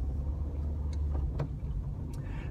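On a narrow residential side road, a car passes close by while the engine of the car being driven rumbles steadily, with faint whooshes and small knocks over a low, continuous hum.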